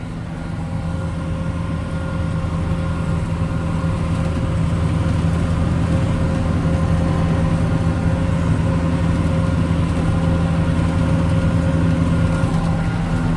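Tractor engine running steadily in an apple orchard row on a hillside, a constant low, humming drone with a strong steady tone, close and even with no voices over it.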